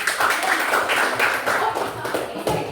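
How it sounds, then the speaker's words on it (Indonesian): A classroom gives brief applause for classmates, scattered hand claps from a small group, fairly close, lasting a few seconds with no one speaking over it. "Give applause for your friends."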